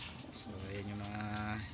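Pet pigeons cooing, soft repeated low coos from nearby birds at a quiet level, with someone talking over them.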